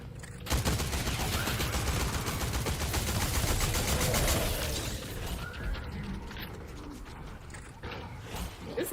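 Rapid bursts of heavy, powerful gunfire in the video game Fortnite, loud and dense with clattering mechanical rattles, sustained for several seconds before tapering into quieter scattered shots.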